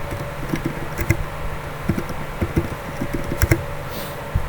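Someone types on a computer keyboard, irregular light clicks and taps at close range, in short bursts with small pauses, over a quiet room hum.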